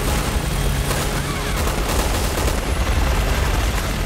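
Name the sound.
gunfire in the video game Resident Evil 6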